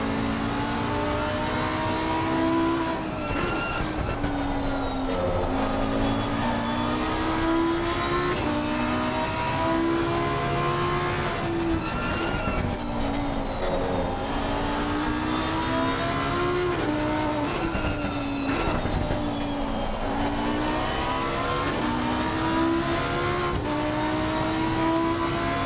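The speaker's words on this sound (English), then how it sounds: "Quick shift into 6th and then downshifts back to 4th." Race car engine in Assetto Corsa Competizione at Brands Hatch, loud and continuous, revving up through the gears with quick upshifts and downshifts dropping the pitch, the rising and falling whine repeating across the lap with no talk.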